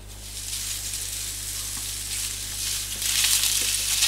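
Iberian pork sausage and pancetta sizzle steadily in a hot, dry frying pan with no oil, a bright continuous crackle that swells a little louder toward the end, with a low steady hum beneath and no talking.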